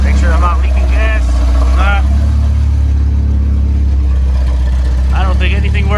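A Honda Civic EF engine running at a steady idle, loud and close, with someone talking over it at the start and again near the end.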